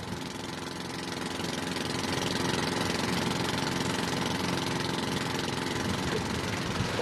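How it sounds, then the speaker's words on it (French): A small long-tail boat engine idles steadily with a constant rattling hum, close and moderately loud, with no talking. "Le moteur, par exemple. Pour l'enclencher, il faut tirer sur cette corde."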